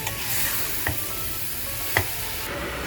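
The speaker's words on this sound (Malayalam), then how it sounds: "കട്ട് ചെയ്ത് വെച്ചിരിക്കുന്ന ക്യാബേജ് ചേർത്ത് കൊടുക്കാം. നമുക്ക് നന്നായിട്ടൊന്ന് മിക്സ് ചെയ്ത് കൊടുക്കാം." Chopped cabbage sizzles steadily in a frying pan while a spoon stirs it, with a couple of soft scraping knocks against the pan.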